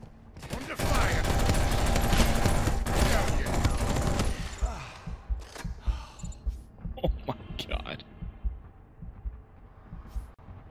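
Dense, continuous gunfire in the online shooter game Off Planet fills the first half, then thins into scattered single shots and clicks, with voices talking faintly underneath.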